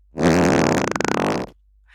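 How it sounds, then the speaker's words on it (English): A fart sound effect meant as a soft sub-bass layer in sound design plays alone: a loud, low, buzzing blurt lasting over a second with a fluttering middle, then a sudden cut-off. "it's the fart sound"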